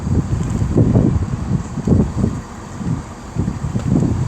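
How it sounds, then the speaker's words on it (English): Strong wind buffets a microphone on a railway platform at Tamworth on the West Coast Main Line, loud low rumbling gusts that swell and ease in waves throughout, with no talk. "Geez, the wind off that."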